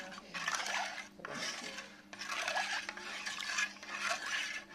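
Ladle rubbing and scraping around a pot while stirring jowar ambil, a sorghum porridge seasoned with garlic, coriander and salt, heard in three long scraping strokes with short pauses between them, close and moderately loud.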